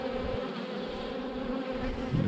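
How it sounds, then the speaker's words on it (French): Many honeybees hum in a dense, steady buzz close by at a hive, a continuous drone with no pauses. "Alors là, par contre, il y a pas mal d'abeilles."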